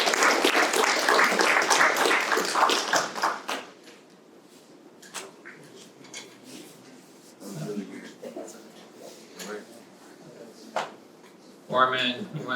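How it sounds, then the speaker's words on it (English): Applause from an audience closing out a panel discussion at a Women in NFTs event, loud and sustained for about three seconds before fading into scattered sounds and brief talk. "Rounds of applause."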